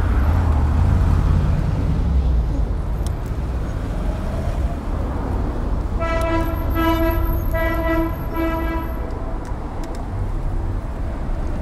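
A loud multi-tone train-style air horn fitted to a motorbike blares for a few seconds midway, sounding over a steady roar of road traffic and engine noise.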